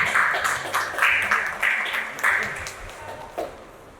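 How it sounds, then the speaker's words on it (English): An audience at a singing-competition felicitation ceremony applauds a music teacher, the clapping coming in several uneven bursts that swell and fade, mixed with voices in the hall and gradually dying away. "So, big round of applause for him."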